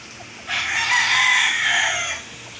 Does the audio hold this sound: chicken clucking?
yes